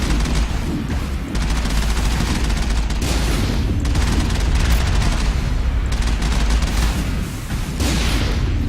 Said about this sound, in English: That thing I was shooting at was a turret.